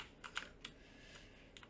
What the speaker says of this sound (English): you can probably hear my keyboard clicking in the background